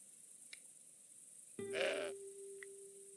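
A single goat bleats once in the Broken Sword 5 adventure game, a short nasal wavering cry in the middle of an otherwise quiet scene, with a couple of faint clicks before and after.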